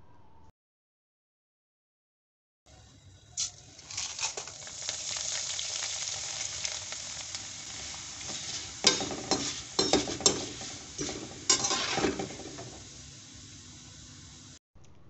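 Sun-dried leftover boiled rice hitting hot oil sets off a loud, steady sizzle after a short silence. Sharper crackling bursts and stirring scrapes break through toward the end.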